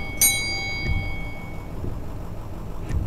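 A single bright ding from a bus stop button bell rings out at the start in the horror video game Night Bus, then fades over a low, steady bus engine rumble with faint knocks.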